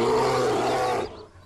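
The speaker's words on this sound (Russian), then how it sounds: "Давайте на мишку посмотрим, как он сагрится." A bear in the survival video game Mist Survival lets out one loud, deep, rough roar lasting about a second before it fades out.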